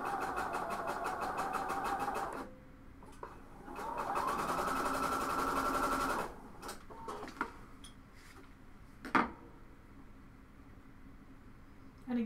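A sewing machine hemming a fabric edge with a small 3/8 hem, running in two steady bursts of rapid stitching, then stopping, followed by quiet handling noises and a few clicks.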